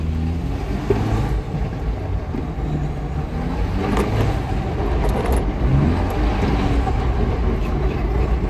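A Land Cruiser 250 with an aFe cold air intake drives with the windows down, giving a steady, loud rumble of engine and road noise throughout.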